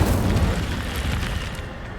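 The Incendio fire spell in Hogwarts Legacy goes off as a deep, rumbling, whooshing blast that fills the whole short moment and then slowly fades.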